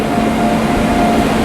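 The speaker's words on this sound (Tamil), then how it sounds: "ஒரு வண்டி அரைவ் ஆயிட்டு இருக்குங்க" A train rolls into a station platform at Charlapalli near Hyderabad with a steady, loud rumble and a sustained hum of engine or brakes, and no talk.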